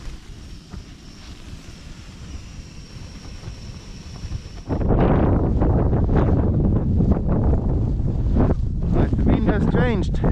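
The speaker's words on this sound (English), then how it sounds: "But the wind has changed. Now it's from the side. So makes a bit more noise now." Side wind gusting across open Arctic sea ice in Finland, a softer steady rush that turns into a loud, buffeting roar against the microphone about halfway through, continuing strongly to the end.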